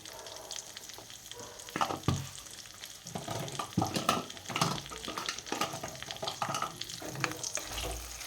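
Jujube sweet and sour pickle with turmeric being stirred in a pan: a continuous close sizzle with repeated scraping and stirring strokes throughout, and no talk.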